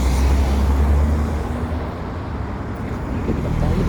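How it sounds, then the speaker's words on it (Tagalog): Steady roadside traffic on a Philippine street near a supermarket, with broad low rumble and wind-buffeted noise from passing vehicles, continuous and fairly loud throughout without clear separate pass-bys. "Mga sasakyan guys."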